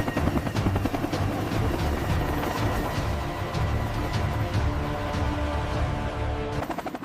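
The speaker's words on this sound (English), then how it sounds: "The AH-64 Apache crew performs final checks before takeoff." AH-64 Apache attack helicopter running before takeoff, a steady loud rotor and turbine roar with fast rhythmic blade chop throughout.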